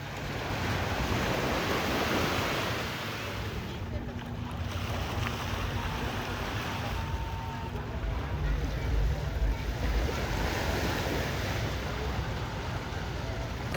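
Waves at a busy beach in Phuket, Thailand: continuous surf wash with wind buffeting the microphone and faint boat engine hum, steady and moderately loud throughout.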